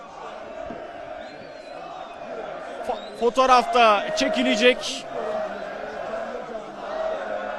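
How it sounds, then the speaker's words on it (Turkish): Fans gathered at Atatürk Airport in Istanbul to greet Leroy Sané for Galatasaray, a brief burst of loud shouted chanting and whoops rising over murmuring crowd noise, with voices heard around it. "Sare tezahüratları yaklaşık bine yakın taraftar Atatürk Havalimanı'nda yıldız futbolcuyu karşıladı"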